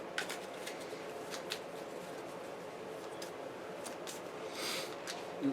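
Player decks for the Pathfinder Adventure Card Game are shuffled on a table, with continuous soft papery riffling and a few sharper snaps, close but quiet throughout.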